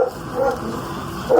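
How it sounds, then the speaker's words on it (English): A dog barks in short yips near the start and again at the end of the brief stretch, fairly close indoors over a low room hum. "My dog is barking."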